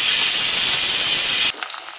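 Vegetables with slit green chillies and onion sauté in a pan, giving a loud, steady sizzling hiss that holds for about a second and a half before abruptly dropping away to near quiet.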